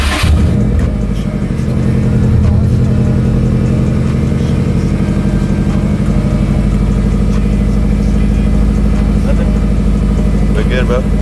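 A Subaru WRX STI with a big turbo and new AEM fuel pump starts up and settles into a steady, loud idle with a low rumble, close to the listener.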